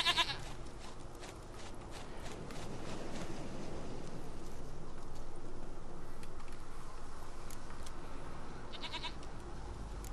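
A goat in the video game The Witcher 3 bleats faintly over a steady outdoor ambience, with brief sharper calls near the start and again toward the end.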